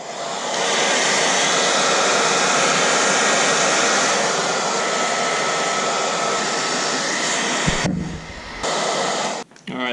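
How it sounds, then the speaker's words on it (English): A hair dryer blows hot air onto old emblem adhesive on a 2007 Nissan Xterra, a steady loud whoosh that runs for most of the clip before cutting off near the end. "I'm going to use my wife's hair dryer, heat it up a little bit, get it nice and warm."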